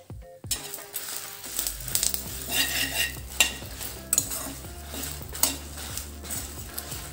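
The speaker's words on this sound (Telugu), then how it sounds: "ఇప్పుడు జీలకర్ర ధనియాలు కొంచెం పచ్చివాసన పోయే వరకు ఇందులోనే వేసి వేయించుకుందామండి" Cumin and coriander seeds roasting in a pan with curry leaves and dried red chillies, a faint sizzle under repeated scraping and clinking of a metal spoon stirring, close and with no talk.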